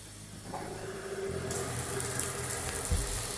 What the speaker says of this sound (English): take this, just pull up, then it activates the shower